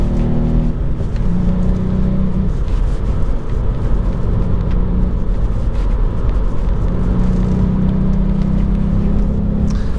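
Volkswagen Up GTI small hatchback driving on a road on smaller wheels with higher-profile tyres, a steady loud engine drone and road rumble continuing throughout with shifting engine pitch.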